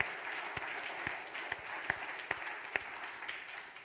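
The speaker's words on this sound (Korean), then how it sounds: "박수로 하나님께 영광 올립니다" A church congregation applauds during a Korean Sunday worship service, with a soft steady patter of clapping in a large room and several sharper louder claps standing out at intervals.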